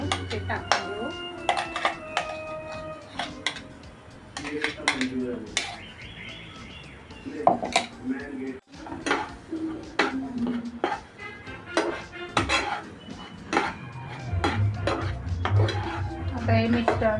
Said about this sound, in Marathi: आता हे मिश्रण सारखं हलवत राहायचं।